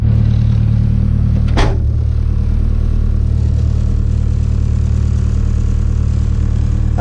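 K24a2-swapped Acura Integra with a 6-speed Type S transmission firing up for the first time, a sharp catch followed by a loud, steady close idle.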